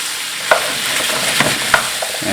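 Potatoes are stirred in a hot pan for Irish stew. A loud close sizzle runs throughout, broken by a few sharp knocks and scrapes of the spoon.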